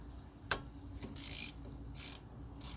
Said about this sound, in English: we're going to go ahead and remove the 2 caliper bolts